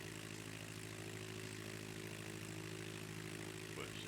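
Steady, close drone of a propeller airplane cruising at about 3,000 feet, a constant engine hum with strong low harmonics filling the whole stretch without pause.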